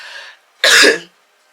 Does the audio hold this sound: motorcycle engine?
no